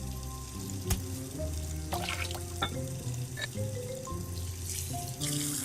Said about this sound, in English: Remove the rusted object and rinse in running water.